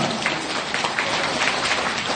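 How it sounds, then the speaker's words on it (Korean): Applause from a temple congregation during a flower presentation ceremony, a steady wash of many hands clapping at moderate volume throughout, with a slightly muffled, distant tone. "우리와 같은 박수 부탁드립니다"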